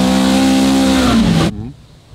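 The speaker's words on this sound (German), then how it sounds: "ist ein Motor, der auch gerne hochdreht" An Opel Manta engine revs high and loud at close range, holding a strong steady whine before the revs drop away sharply and the sound fades out.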